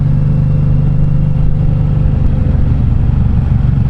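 Stock exhaust of a Suzuki Boulevard M90R or M109R cruiser motorcycle rumbling steadily at idle, a deep continuous low-frequency throb that stays loud and even throughout with no talking.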